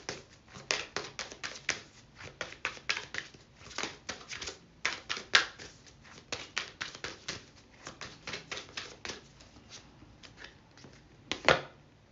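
Hidden Truth Oracle card deck being shuffled by hand, quiet repeated riffling bursts and flicks in an irregular rhythm, close and alone.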